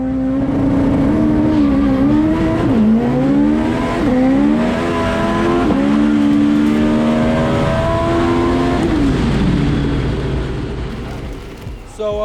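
A Japanese economy car built for drag racing in the Wild Street class accelerates hard on a qualifying pass, its loud engine climbing through several gear changes in rising, falling sweeps before fading into the distance.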